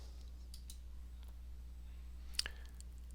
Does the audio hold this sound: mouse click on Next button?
yes